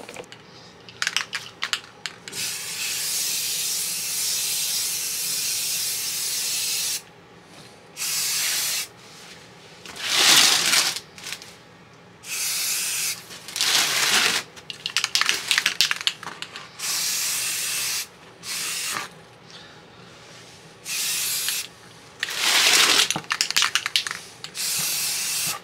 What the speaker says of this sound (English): Maybe a little lighter coat this time, and then hopefully that's the last coat we got to put on for the primer